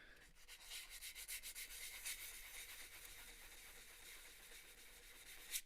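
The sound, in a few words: sanding wood seam with 120 grit sandpaper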